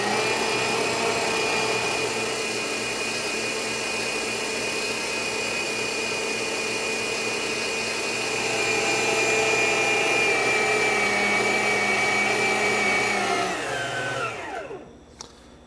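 An electric mixer whips egg whites for macarons at a raised speed, a steady close motor whine that holds for about fourteen seconds and then winds down to a stop at the end.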